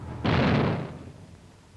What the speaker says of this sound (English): It was done when the tank was dropped, like this, onto hard concrete.